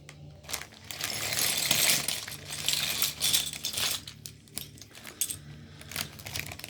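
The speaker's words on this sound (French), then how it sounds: "Ah, les bruits de petites pièces en plastique, tout ce qu'on aime." Small plastic Lego pieces rattle and clink while a Star Wars Jedi Starfighter set is being built, a continuous close jangle of many tiny parts shifting and tapping, fairly quiet with no voices.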